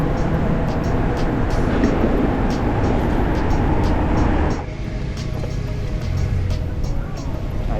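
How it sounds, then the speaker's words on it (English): A metro train in Santiago, Chile rumbles past nearby as a steady, loud roar that suddenly drops off partway through, leaving quieter street traffic noise behind. "Subway over there."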